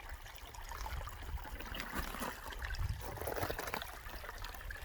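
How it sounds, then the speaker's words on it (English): Water from a pond outlet stream flowing through rocks, a steady broadband trickle and gurgle at close range with no voices, continuous for the whole stretch. "Now that water flows through them rocks."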